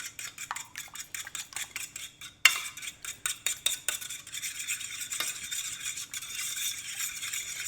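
Whisking a hot honey chicken sauce mixture in a bowl, a quick run of rhythmic metallic clicks and scrapes against the bowl that settles into a steadier whir partway through, close up with no talking.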